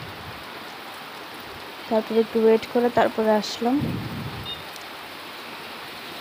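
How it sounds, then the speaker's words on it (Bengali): Steady rain falls in a continuous hiss outdoors, with a person talking briefly over it partway through. "তারপর আসার সময় দেখো কি বৃষ্টি,"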